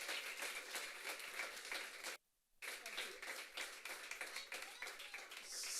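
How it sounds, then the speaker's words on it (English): An audience applauds after a round of thanks at a startup demo night, steady dense clapping with a brief drop to silence midway before the clapping resumes. "So one more round of applause for them."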